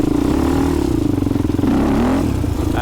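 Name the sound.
used four wheeler (ATV) engine revving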